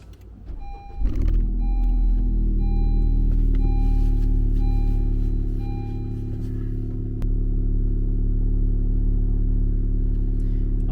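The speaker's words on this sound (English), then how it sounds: "turn the car on" A 10th gen Honda Civic starts up and settles into a steady low idle hum inside the cabin, with a brief clatter at ignition and no talking.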